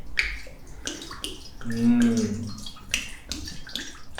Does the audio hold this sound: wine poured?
yes